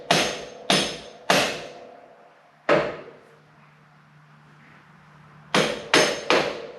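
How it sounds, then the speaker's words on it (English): A 32-ounce Milwaukee ball peen hammer strikes a part on a 1948 Harley-Davidson Flathead 45 WL, sharp metallic blows: three in quick succession, one after a pause, then three more, each ringing briefly before fading. "I just have my 32 ounce Milwaukee ball peen here."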